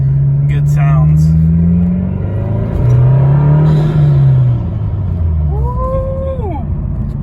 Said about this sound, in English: to do a little BMS intake sound clip for you guys, a little updated sound clip, see if we get some good sounds